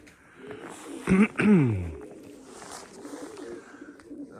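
Pigeons on a dovecote roof give a couple of close, throaty coos near the middle of a quiet stretch, with soft background rustling and faint activity around them.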